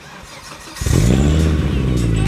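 A 1997 Volvo 850 T5 wagon engine cranks briefly and catches, bursting into a loud, close-up rumble that settles into a steady idle.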